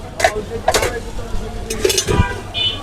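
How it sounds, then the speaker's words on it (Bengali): A spatula scrapes and clatters as chow mein is stirred in a pan at a small food stall, giving a few sharp, separate metallic knocks at close range. "চাউমিনটা একটু নেড়ে দেখেন"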